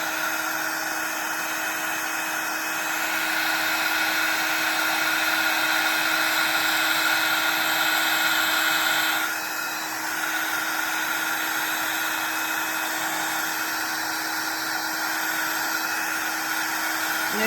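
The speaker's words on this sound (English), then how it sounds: "So you want to come to get it nice and hot, your embossing gun. Start embossing on one side." Embossing heat gun blowing steadily over gold embossing powder on a stamped card, a continuous close, loud fan-and-heater whoosh with a brief dip midway, no talking.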